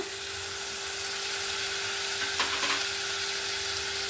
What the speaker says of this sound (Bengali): এর মধ্যে বাটা মশলাগুলো দেব পেঁয়াজ বাটা